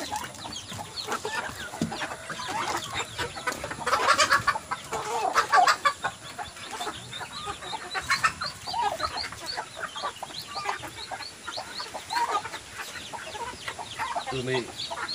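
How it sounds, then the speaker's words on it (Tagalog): Black chickens cluck and squawk continuously at close range in a farm pen, overlapping calls rising and falling in busy bursts. "So guys, mga itim na manok."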